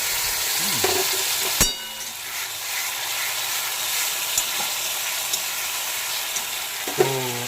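White mustard and poppy seed paste frying in a pan with potatoes for a parshe fish curry, a loud, continuous sizzle and hiss with occasional scrapes and knocks of a spoon, no voices.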